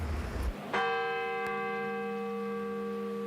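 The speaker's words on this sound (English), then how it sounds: "the bell is also reverberating in the county seat" The McDowell County courthouse clock bell strikes once, close and loud, with a long ringing hum that decays slowly over several seconds after a burst of noise.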